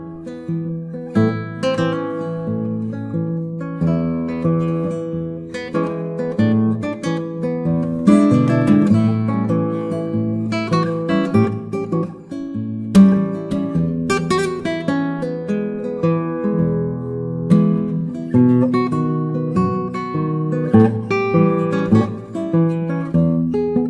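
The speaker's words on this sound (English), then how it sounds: "So this is a blues, very very simple blues, and it sounds like this" A very simple blues played on classical guitar with the thumb striking fully in flesh, a steady stream of plucked notes and chords moving over a low bass line, close and moderately loud with no voices.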